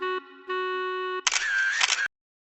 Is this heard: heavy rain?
no